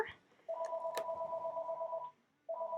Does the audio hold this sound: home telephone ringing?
yes